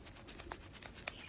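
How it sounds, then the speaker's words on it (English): Toothbrush dipped in cleaning alcohol scrubbing the DRL light part of an Audi A3, quick rhythmic bristly rubbing strokes, faint and close, with no talk. "take some cleaning alcohol on a toothbrush and just clean this"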